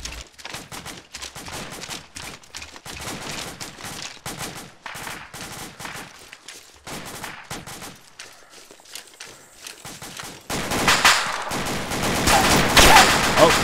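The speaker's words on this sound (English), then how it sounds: "I hear more AK sort of southwest." Gunfire from AK rifles in the tactical military game Gothic Line, rapid bursts and volleys crackling at middle distance, growing louder and denser toward the end.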